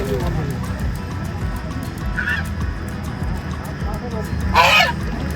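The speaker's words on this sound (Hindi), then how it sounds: "बत्तख ही तो खा रही है।" Ducks being fed at the edge of Naini Lake in Nainital, with a couple of short honking calls over constant crowd chatter and lakeside murmur.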